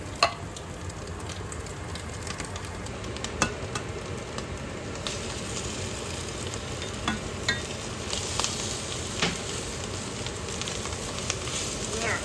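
Corned beef hash frying in a pan with egg being scrambled in, a steady sizzle under scattered stirring scrapes and taps, moderately close.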